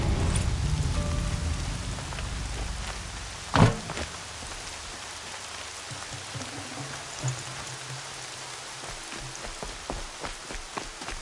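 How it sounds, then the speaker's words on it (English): Steady video-game rain pattering on surfaces with scattered louder drips, one sharp thump early on, fairly close and with no voices. "Rain's not so bad."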